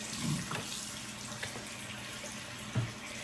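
Tap water running into a kitchen sink, a steady faint splashing flow with a couple of small knocks, no voices.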